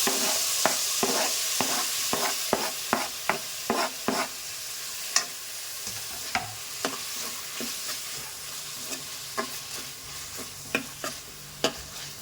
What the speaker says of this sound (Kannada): ಈಗ ನಾವು ಟೊಮೆಟೊ ಹಾಕೊಂಡ್ಬಿಡೋಣ